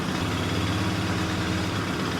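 The engine of a 2006 Outlander 800 ATV with a no-run issue idles steadily up close, a loud, even low chug with a clattering rattle and no voices.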